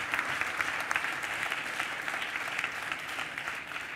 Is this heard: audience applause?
yes